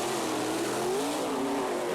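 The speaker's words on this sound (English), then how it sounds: "revved that thing up and dumped the clutch and got a lot of traction" An off-road two-wheel-drive Pro Mod race truck engine revving hard at the start of a final, a loud sustained roar with rising and wavering pitch, no talk.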